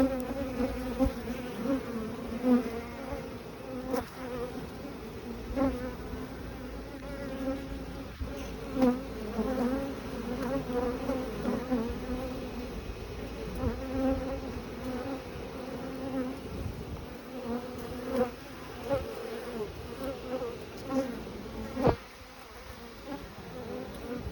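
Honeybees from a cutout colony buzz steadily as they are hived into a Layens hive while the queen is released: a dense, close swarm drone that continues throughout, with louder passes of individual bees.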